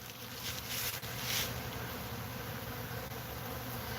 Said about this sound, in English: And I just had a bee fly on my hand.